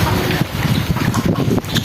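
Steady wind rushes across rainwater flooding a village courtyard in Munshiganj, where small toy boats drift and tip on the surface. The gusty, broadband noise stays loud and close throughout, with no voices.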